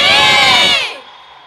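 Schoolchildren's crowd shouts a team war cry at the opening of the 2024 municipal school games. The loud, massed voices sustain for about a second before quickly cutting off.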